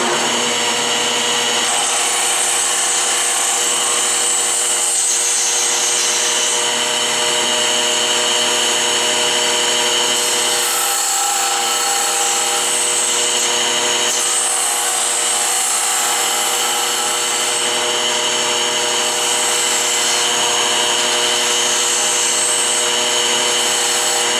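Wood turned on a lathe with a half-inch skew chisel while making a rattlesnake-tail goose flute, a steady loud motor whine with shifting scraping and cutting tones throughout, close and continuous, no talking.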